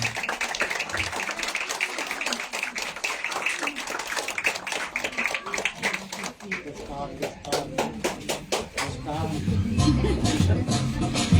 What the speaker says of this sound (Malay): Tepukan yang gemuruh sekali lagi untuk mereka.